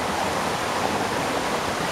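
Steady broadband rush of Stoney Creek water flowing past a sycamore, continuous and fairly loud with no talking.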